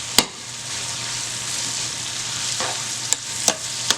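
Cabbage fries in a pan for Southern fried cabbage with an even, moderate sizzle. A few crisp clicks and knocks punctuate it near the start and end, and there is no talking.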